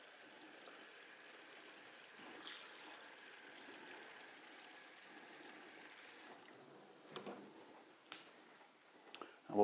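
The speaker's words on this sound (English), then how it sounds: "Fill up with cold water." Water streams steadily into a pot for several seconds, quiet and continuous, then stops, followed by a few light clanks and handling sounds.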